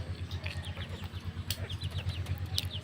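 Farm chickens clucking softly while being handled one by one, faint scattered clucks over a steady low mechanical hum.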